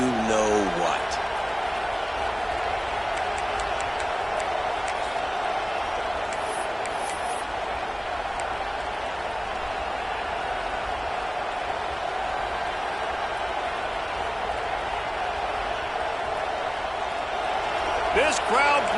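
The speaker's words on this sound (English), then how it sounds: "This crowd bringing the energy and noise early." A broad, steady roar of a large football stadium crowd fills the air, loud and sustained, with a few sharp whistles and shouts near the start and end.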